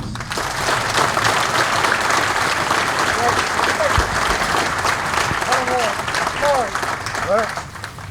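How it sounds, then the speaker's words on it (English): A seated crowd claps steadily for awardees at a military graduation ceremony for the 2nd Regiment, Advanced Camp, with a dense, even roar of applause and a few faint whistles or calls mixed in. "please join me in giving another big round of applause to these awardees"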